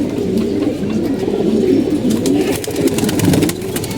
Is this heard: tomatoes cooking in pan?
no